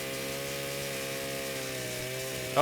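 Chainsaw in the Fallout 76 video game, a continuous buzzing engine drone with steady harmonic whine held throughout, ending with a brief louder burst.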